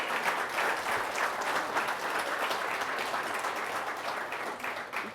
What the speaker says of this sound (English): How about a round of applause for our wonderful team put this together?